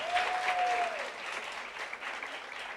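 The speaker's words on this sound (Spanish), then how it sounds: "Y un aplauso para nuestros guerreros ganadores" A congregation applauds the winning young competitors at a church gathering, a soft, steady wash of clapping heard from a distance, with a brief tonal sound near the start.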